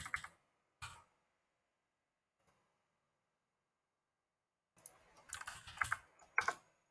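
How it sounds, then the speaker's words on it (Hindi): Typing on a computer keyboard comes in scattered quiet key clicks, a couple of isolated taps, a long silence, then a quick flurry of close keystrokes near the end. "मैं कुछ रेंडमली लिख लेता हूँ इसके आगे।"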